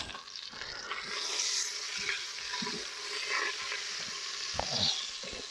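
Oxtail pieces sear in a hot pot, giving a steady, close, broadband sizzle with occasional stirring scrapes and crackles throughout.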